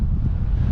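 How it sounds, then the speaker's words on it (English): Wind buffets the microphone at a high-altitude volcano viewpoint around 5,000 meters up, a short, loud, low rumbling gust. "Quite a wind here."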